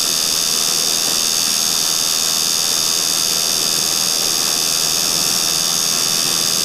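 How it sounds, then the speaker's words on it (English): The relay of a homemade pulse motor runs at speed, giving off a loud, unbroken buzzing whine with a hissy edge that holds steady the whole time. "You can sure hear that relay cruise."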